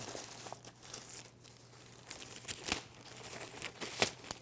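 Plastic and paper packaging of a UPerfect 4K travel monitor being unwrapped, with soft crinkling and rustling throughout and a few sharper crackles and rips near the end, close up and fairly quiet.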